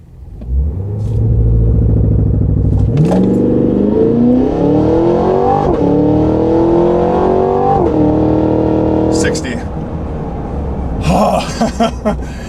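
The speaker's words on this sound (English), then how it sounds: "I put the brake all the way down, and then I'm gonna floor it, and then once the traction control flashes, then I'll release it." A 2023 Cadillac Escalade-V's engine roars loudly as it is held on the brake and floored for a launch, climbing steadily in a rising rev sweep before accelerating away, then easing off near the end.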